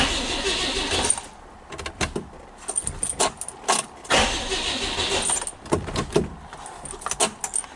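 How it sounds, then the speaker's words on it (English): Mercedes-Benz 300SE cranking without starting because it has no petrol pump, heard as uneven bursts of starter churning with metallic clatter and key or door sounds, close and moderately loud with no ignition. "It's not going to start because there's no petrol pump."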